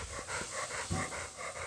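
A puppy pants in quick, steady breaths close by, a rhythmic huffing that runs for about two seconds without any talk.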